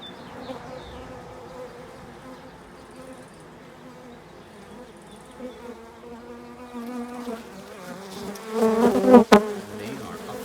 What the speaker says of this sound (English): Bees are not too happy about my phone today, so they are attacking it.